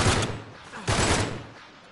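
Enemy gunfire in the video game Uncharted 3 Drake's Deception: two loud bursts of shots, one at the start and another just under a second later, each fading into a rumbling tail.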